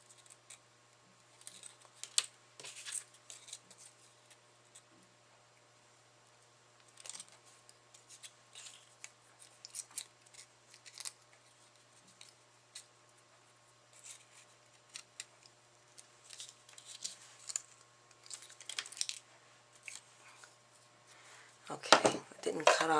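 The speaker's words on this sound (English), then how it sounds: "So I'm going to take my wire cutters and see if I can cut that off." Sharp metallic snips and clicks of wire cutters cutting wire, scattered irregularly over a quiet background, with a louder burst of handling noise near the end.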